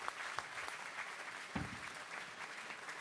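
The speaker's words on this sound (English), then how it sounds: "How about a round of applause for him?" Applause from an audience at a Junior Achievement hall of fame event honoring a young CEO, soft and distant, steady clapping with a faint low voice or thump midway.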